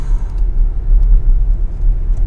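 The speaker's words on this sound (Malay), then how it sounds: "Tekan sikit saja. Dia spin tayar, geng. Tayar dia spin, gila." A Proton Emas 7 Premium car accelerates hard with tyre wheelspin, giving a loud, close, low engine rumble and road roar that stays continuous throughout.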